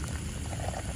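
Soup made with kandis fruit, in a Dayak-style fish dish, simmers in a pot: a close, steady bubbling and gurgling boil with no voices, sustained for about a second.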